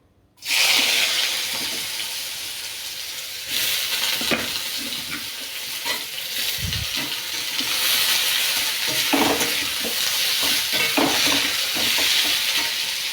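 Fish frying in hot oil in a pan gives a loud, steady sizzle and hiss that runs almost the whole time, with a few clatters and faint water sounds in the background.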